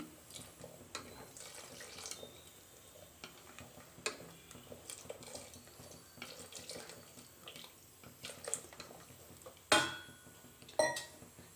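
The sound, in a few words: water being poured into a cooking pot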